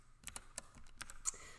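Quick, faint keystrokes on a computer keyboard click in an uneven run of about eight light taps, close by, with no talking.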